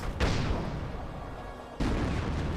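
An M2 mortar barrage in Company of Heroes: two loud crumps land about a second and a half apart, each followed by a low rumbling tail.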